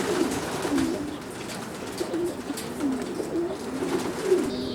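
Pigeons coo steadily in large export holding pens at a pigeon stud, a continuous overlapping chorus of low, rolling calls repeating throughout at moderate distance.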